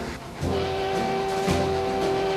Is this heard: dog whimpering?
no